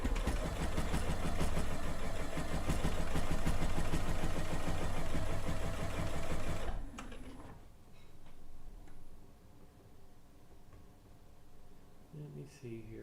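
A sewing machine stitches quilt binding in a rapid, steady mechanical chatter for several seconds, then stops, leaving quieter handling noises with a voice speaking alongside.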